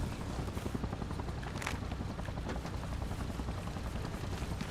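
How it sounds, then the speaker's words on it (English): A helicopter's dense, steady rotor chop and engine roar dominate throughout, loud and continuous as it approaches during a video-game firefight. "I hear a chopper. Whose is it?"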